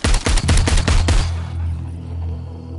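Rapid bursts of gunfire in a first-person shooter video game, a quick volley of loud, punchy shots over about a second followed by a fading low rumble, with no talking.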